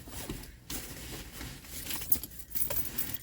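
Car keys are picked up and jangle close by in light metallic clinks and rustles, irregular and brief, with no talking.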